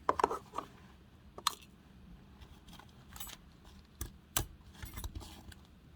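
Small scissors snip loose threads on a 5 inch embroidery hoop, a scatter of sharp, quiet clicks and cuts, some in quick pairs, close by with no talking.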